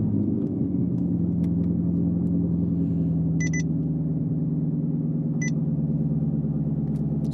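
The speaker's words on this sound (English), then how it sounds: "let's go ahead and start it up, cold start, and see what the difference in the exhaust sound is" A Chevrolet Corvette ZR1 cold-starts and settles into a steady, loud, deep exhaust idle rumble that runs throughout, with a couple of brief high electronic beeps partway through and no talking.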